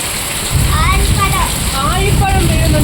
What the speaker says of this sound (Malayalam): ആലിപ്പഴം വീഴുന്നുണ്ട് ഗായ്സ്.